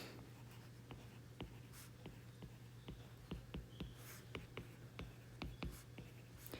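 Pen or pencil writing on paper during a 7th grade math lesson, faint close scratches and taps in an irregular rhythm over a low steady hum, with soft whispering in the background.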